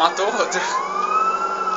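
A police siren in Grand Theft Auto wails with a sweeping pitch rise on Mount Chiliad, backed by a steady engine drone, while a voice speaks briefly over it.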